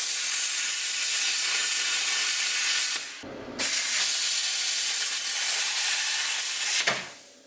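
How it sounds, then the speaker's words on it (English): Plasma cutter slicing through a metal mount bracket for a ZX14 motorcycle, a steady loud hiss that runs continuously, drops out briefly midway, then resumes before tapering near the end; no talking. "So I'm actually over here with the plasma cutter."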